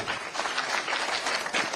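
An audience claps after a speech at a gathering of people with disabilities in Nairobi, a soft, steady patter of applause that sounds somewhat distant.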